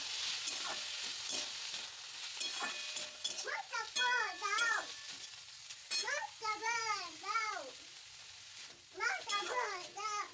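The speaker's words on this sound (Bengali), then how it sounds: "এটাও আমি ভেজে নেব ভালো করে" Oats khichuri ingredients, including cabbage, fry in a pan with a soft steady sizzle and occasional stirring. Children's voices and babbling are heard clearly over the cooking.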